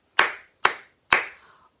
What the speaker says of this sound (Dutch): We klappen precies in de maat.